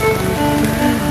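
Steady rain falls outdoors, a dense continuous patter on surfaces that stays loud and even from start to finish, with no talk.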